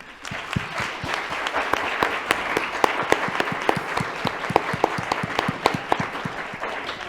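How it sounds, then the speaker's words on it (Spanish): Sustained audience applause with many distinct hand claps, steady and fairly close, filling the whole stretch without a break. "Vamos a aplaudirles."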